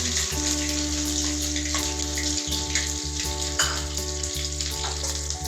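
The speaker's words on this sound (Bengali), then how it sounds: "এরপর দিয়ে দেব কেটে রাখা লঙ্কাগুলো, ভালো করে ফ্রাই করে নেব।" Chopped chillies frying in mustard oil for a vegetable chow mein, a steady close sizzle and crackle with a few faint stirring clicks, no voices.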